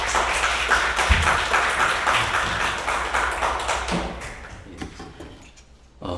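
An audience claps after a student's presentation at a Korean university forum, with dense, loud applause that gradually thins and fades out over several seconds, ending in near quiet with a few scattered claps.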